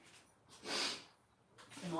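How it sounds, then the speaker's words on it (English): A single sharp sniff from someone getting over a head cold, a brief breathy burst in the middle of an otherwise quiet stretch while painting at home, with a short bit of voice right at the end. "I'm also going to be sniffling a little bit."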